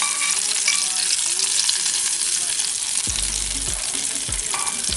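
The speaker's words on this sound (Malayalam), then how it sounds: "ഇനി നമുക്ക് സ്റ്റൗ ഓഫ് ചെയ്തിട്ട് അത് പായസത്തിലേക്ക് ഇട്ട് കൊടുക്കാം." Raisins frying in ghee for jackfruit seed payasam, a loud, steady sizzle close by with occasional stirring scrapes and soft clinks.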